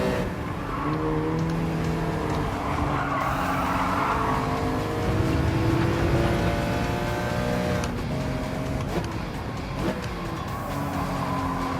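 A BMW M3 race car in Gran Turismo 7 revs hard around a full circuit, with its engine note climbing and dropping through gear changes and tires squealing in skids, all continuous and without talk.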